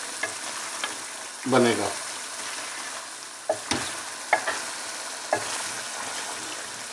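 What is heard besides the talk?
lamb karahi frying on full heat while being stirred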